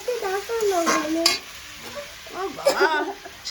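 Food being cooked and stirred with a spatula in a pan, soft sizzling with scraping strokes under a child's and adults' overlapping talk.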